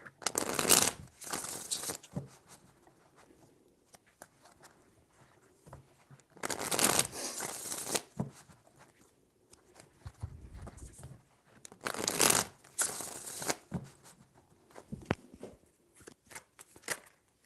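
A deck of tarot cards is shuffled in three distinct bursts spread apart, each a close, crisp rustle of riffling cards, with quiet gaps between and no voices.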